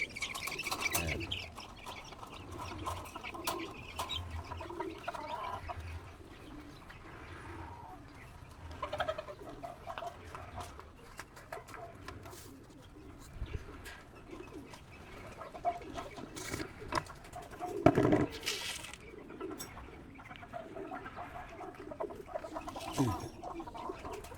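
Chickens cluck and chatter on and off while feeding over a steady background, with a few louder squawks rising near the middle.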